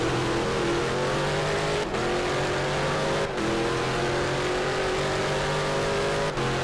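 Race cars driven hard at a racing league all-star race: a steady, loud engine drone holds throughout, with brief dips at gear shifts and no voices.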